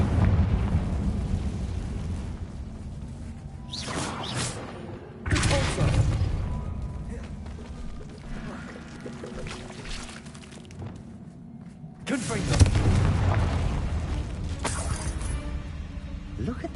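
In the Hogwarts video game, a Confringo blasting spell sets off booming, rumbling explosions in a few loud surges over a continuous roar, with a brief spoken line from a character.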